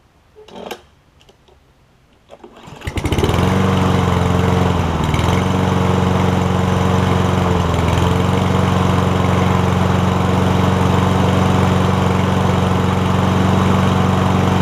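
A Toro Recycler self-propelled lawn mower with a Kohler engine gets a pull-start after a few soft handling noises, then catches and runs with a loud, steady, close droning roar that holds evenly to the end.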